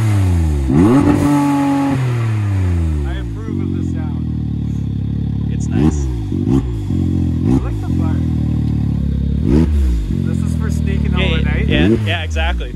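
A Can-Am Maverick X3 side-by-side fitted with an EVO exhaust revs hard in repeated bursts, engine pitch sweeping up and down loudly and close, with voices talking over parts of it.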